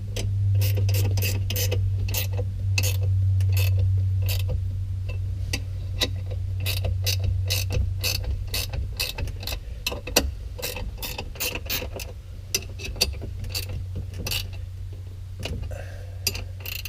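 Ratchet wrench tightening a bolt on a tractor, a rapid run of close mechanical clicks over a steady low engine hum, with sharper clicks as the bolt snugs up.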